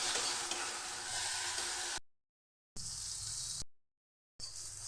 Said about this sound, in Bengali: বেগুনটা আমি ভেজে নিচ্ছি।